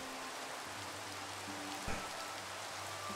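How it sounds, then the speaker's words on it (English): Steady Minecraft rain pattering as a continuous even hiss, fairly quiet, with a brief low thump near the middle and no talking. "And it's raining."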